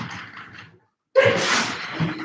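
A single close sneeze bursts out after a short silence, preceded by a breathy inhale and followed by a trailing exhale.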